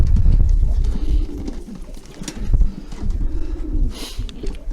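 Low, rounded pigeon coos repeat through the clip, close by, with rustling and shuffling movement in the background.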